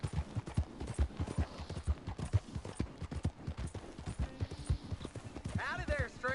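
Horse hooves clip-clopping at a steady walking rhythm in Red Dead Redemption 2, continuous and close beneath ongoing spoken dialogue, with a brief higher whinny-like sound near the end.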